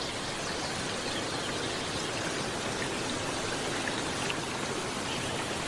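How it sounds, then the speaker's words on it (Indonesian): Clear spring water flows steadily in a rural village on the slopes of Ijen, a dense unbroken rushing wash, loud and close with no pauses. "sumber airnya"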